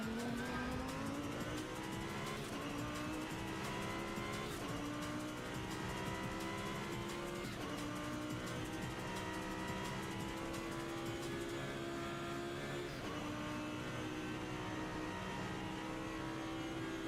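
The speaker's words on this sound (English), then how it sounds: "F3 cars, they sound insane, man" Formula 3 race car engine in a sim racing game, a loud continuous high-pitched scream rising and falling through repeated gear shifts, close up with no talking.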